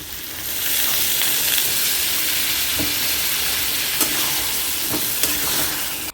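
Curry fries in a pan after a splash of water is added, giving a loud, continuous sizzle with a few scraping stirs and light knocks from the spoon, and no talking.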